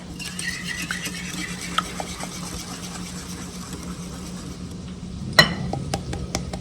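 Flour being worked into biscuit dough in a bowl: quiet soft scraping and stirring with scattered light clicks of a utensil, and one sharper knock near the end, no talk.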